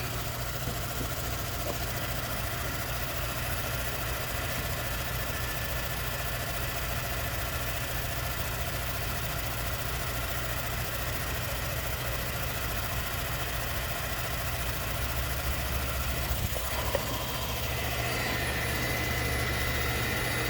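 Resurfacing machine making a fine finish pass on a Mopar 452 cylinder head, a steady, dense mechanical hum and low rumble that runs unbroken and close throughout with no speech.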